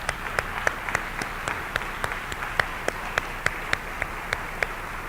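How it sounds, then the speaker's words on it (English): Sparse audience applause for mayoral candidates at a Salem preliminary mayoral forum, a handful of distinct claps standing out at a fairly steady pace over a quiet room. "So we applaud you again."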